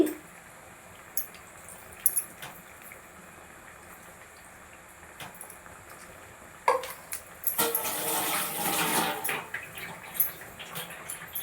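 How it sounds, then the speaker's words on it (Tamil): Tamarind water poured into a pan of bitter gourd curry, a wet splashing rush that swells after a stretch of quiet kitchen background, fairly close and with no talking over it. "புளி தண்ணி சேர்த்தாச்சு"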